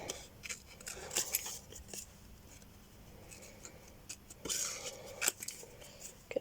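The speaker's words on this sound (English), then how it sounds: "let's just cut around this a little bit more" Scissors snipping paper up close, a run of quick crisp cuts with short pauses, quiet and dry with no talking.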